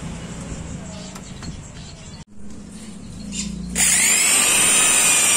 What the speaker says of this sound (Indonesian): Langkah berikutnya kita mulai bor-bor guys.